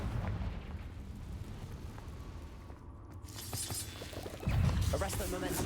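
The Confringo explosion spell goes off in the Hogwarts Legacy video game, bursting loudly near the end over a rumbling game backdrop with a faint voice and scattered crackling effects.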